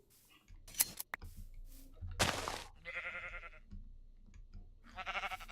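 Quiet Minecraft sheep bleats come from sheep being sheared in the game, wavering repeatedly among keyboard and mouse clicks and brief snips, all at low volume with no talking.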